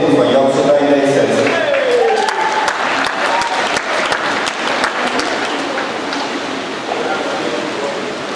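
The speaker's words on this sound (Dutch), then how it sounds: "Groot applaus voor deze jongens" Sustained applause from a crowd at a regional springboard diving championship at the Hofbad pool, steady and dense across the whole stretch with a brief voice audible at the start.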